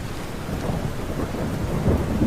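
Steady rain falls with low rolling thunder rumbling underneath, a dense continuous downpour that swells slightly toward the end, with no voices.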